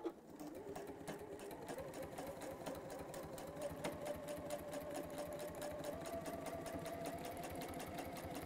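A sewing machine runs continuously as calico fabric is guided around a gentle curve, producing a fast steady mechanical rattle with a rising whine, close and even throughout with no talk.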